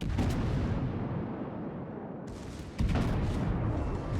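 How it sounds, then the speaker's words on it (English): The secondary guns of the British battleship Warspite fire in the video game World of Warships, with a loud roaring volley that fades, then a second sharp blast of gunfire, and no voices. "Secondaries are still blazing away on this New York"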